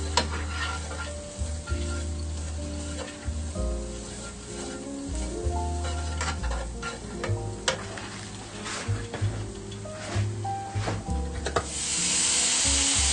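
Shredded white and dark chicken meat fries in a pan while being stirred, a close sizzle under steady scraping and stirring, with background music tones running throughout and no voices.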